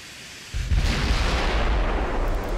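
Battleship main gun turret firing in the naval strategy game Ultimate Admiral Dreadnoughts, a single rear turret opening up at extreme range: one sudden deep boom that rolls into a long, loud rumbling tail with no voices.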